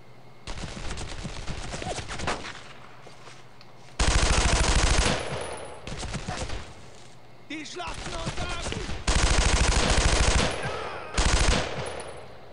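Machine gun fire from an enemy MG crew in the World War II shooter Brothers in Arms: Road to Hill 30 comes in loud, rapid bursts with short pauses between them, under excited talk.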